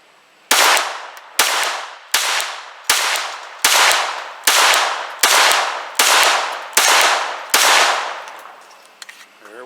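A Glock G44 .22 pistol fires through a magazine: ten loud, sharp shots in a steady rhythm under a second apart, each with a ringing decay, followed by quiet.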